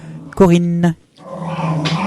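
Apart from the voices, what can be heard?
dog making strange noises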